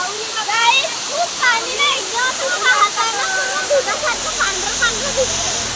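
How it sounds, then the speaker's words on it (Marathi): Continuous roar of a high-pressure hillside waterfall pours loudly throughout, while people talk over the rushing water. "एकदम डोंगरावरती हा झरा वाहतो"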